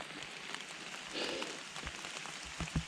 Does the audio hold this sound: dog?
no